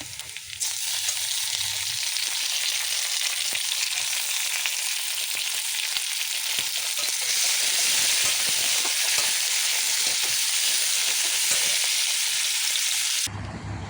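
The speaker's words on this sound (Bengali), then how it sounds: "পেঁয়াজ লাল লাল করে ভাজা হয়ে গেছে, এবারে টমেটো দিয়ে দেবো" Tomatoes tossed into browned fried onions set off a loud, close, continuous sizzle in the pan, steady for over ten seconds before cutting off abruptly, with no speech.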